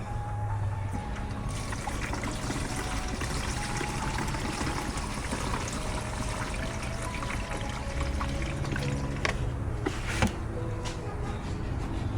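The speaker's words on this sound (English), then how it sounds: "Put some fluid so we can test it out." Windshield washer fluid pours steadily into the reservoir of a 2004–2010 BMW X3 E83. A continuous, trickling liquid stream sounds close and fairly loud for about twelve seconds.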